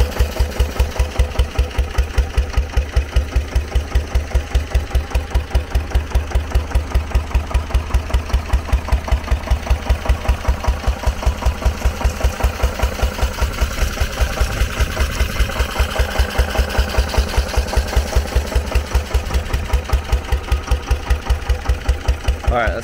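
A SABB GA 12 HP air-cooled single-cylinder diesel engine chugging steadily at a slow, even beat with a deep, knocking thump, close and loud throughout the run.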